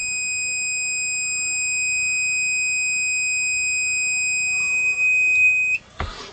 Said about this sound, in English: I don't know why that's beeping.